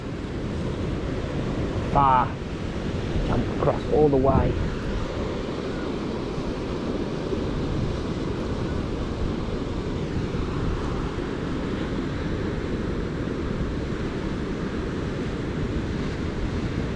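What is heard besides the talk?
ocean waves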